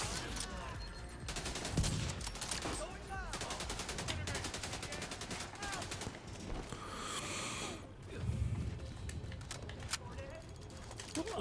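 Gunfire and a grenade blast in The Division 2 shooter game: rattling automatic bursts and scattered shots through busy combat, with a heavier explosion thump, voices talking over the action.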